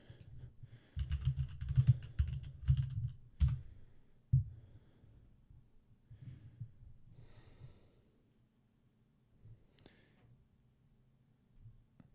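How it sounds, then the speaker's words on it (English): A satisfying mechanical computer keyboard clacks in fast, close bursts of typing, then thins to scattered keystrokes and pauses, with faint breathing in between. "I'm going to do it on the satisfying keyboard"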